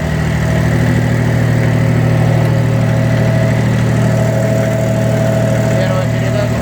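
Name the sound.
Hinomoto C174 mini tractor engine revving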